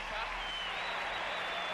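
A tennis crowd on centre court applauds John McEnroe winning the second set against Javier Sanchez, a dense steady wash of clapping heard under a commentator's voice.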